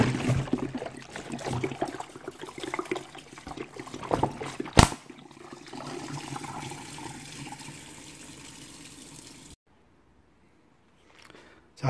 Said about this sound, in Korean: 자, 술을 제가 부어 보겠습니다.